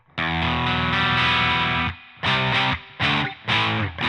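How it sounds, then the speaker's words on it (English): Overdriven electric guitar on the bridge pickup through the Blues Driver side of a Boss JB-2 Angry Driver: a long, bright, gritty sustained chord followed by three shorter chopped chord stabs, loud and alone. "let's see how the blues driver sounds"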